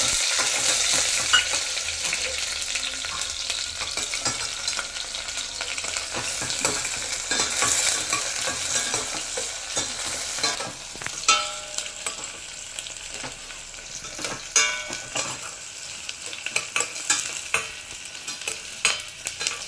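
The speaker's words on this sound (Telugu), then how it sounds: "ఆనియన్స్ కొంచెం లైట్గా ఫ్రై అయ్యాయి." Onions fry in hot oil with black pepper and cloves over a medium flame, making a loud continuous sizzle with frequent crackling pops and scraping stirs that grow busier toward the end, with no voices.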